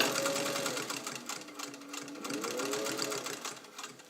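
A restored all-metal Singer 201 sewing machine stitches at a steady pace, its motor humming and the needle mechanism chattering continuously at close range.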